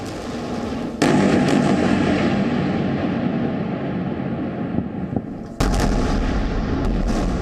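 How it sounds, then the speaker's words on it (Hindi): Deep, booming blasts from Israeli airstrikes on Gaza at night roll out one after another, two sharp onsets leading into long sustained rumbling roars, loud and close. "रात के अंधेरे में धमाके की आवाज और उठते आग के शोले"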